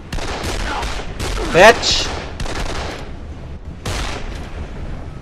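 Bursts of gunfire in the Dead Island video game, a few rapid loud volleys with brief pauses, mixed with someone shouting and cursing over the shots.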